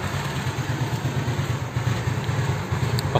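A carbureted Honda Beat motorcycle engine, freshly fitted with new valve rockers, idles close by in a continuous, fairly loud, even rumble with steady mechanical clatter and no speech.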